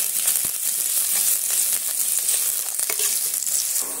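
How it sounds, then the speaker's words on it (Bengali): Chopped onion frying in hot oil in a pan and being stirred, giving a steady, close bright sizzle with small scraping stirs throughout and no talking. "পেঁয়াজটা একটু নেড়ে চেড়ে লাল করে নিচ্ছি"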